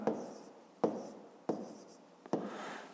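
Pen writing on paper while numbers are recorded for a grade 5 math exercise: four quick scratchy strokes, each starting with a sharp tap and trailing off, close and fairly quiet with no talk.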